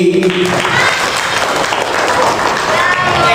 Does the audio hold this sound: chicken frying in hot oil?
no